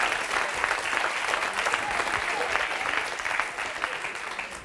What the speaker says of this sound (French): Venez, on l'applaudit, s'il vous plaît.